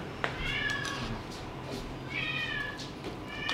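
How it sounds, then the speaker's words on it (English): A cat meows repeatedly and fairly close, a few separate drawn-out calls with short gaps between them over a low background hum. "I hear a cat. Let the cat in."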